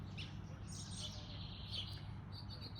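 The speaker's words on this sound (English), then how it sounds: "can hear the birds" Small birds chirp and tweet in a garden, with bright, quick calls repeating over a soft, quiet outdoor background, fairly near and gentle.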